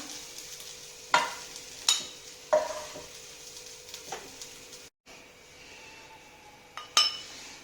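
Cooked chicken keema is scraped and spooned from a pan into a bowl, with several sharp clinks and scrapes of a utensil over a soft, low sizzle.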